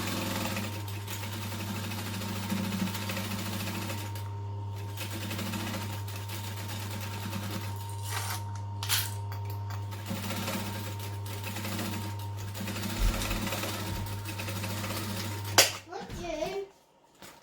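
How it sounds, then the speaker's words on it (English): A sewing machine stitches a bag with its gusset facing up, a steady mechanical drone with brief pauses. Voices, including a child's, are heard near the end. "So I sew mine with gusset facing up."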